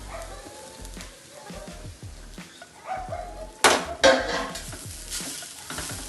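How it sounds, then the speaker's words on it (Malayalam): Crushed coconut roasting in a pan, stirred with repeated scraping and clattering strokes over a faint sizzle, with a couple of louder knocks of the utensil against the pan. "തേങ്ങ നല്ല പൊരിയ വറവാക്കണ്ടേ"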